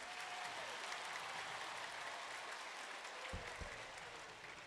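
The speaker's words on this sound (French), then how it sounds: "Applaudissez pour vous-même." Children clap together at a youth pilgrimage gathering, a dense, even wash of applause that holds steady throughout, heard from some distance and fairly soft.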